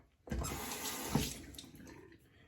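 Warm then cold water running from a bathroom sink tap to rinse after a shave, a close steady splashing stream that starts abruptly, surges briefly and then flows on evenly.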